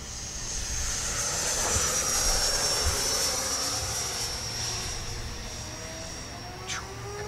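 An Arrows 64mm Marlin RC jet model airplane flies overhead with a steady high-pitched ducted-fan whine that swells and fades slightly as it passes, heard outdoors at moderate distance.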